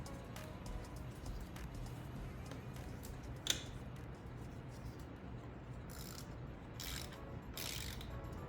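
A hand ratchet clicks steadily while tightening a bolt on a 2019-2024 Toyota RAV4 2.5L A25A-FKS engine during camshaft position sensor work, quiet and close, with a sharp metallic tap midway.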